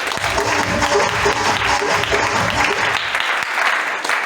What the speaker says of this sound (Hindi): वेरी गुड, जोड़ा ताली इनके लिए।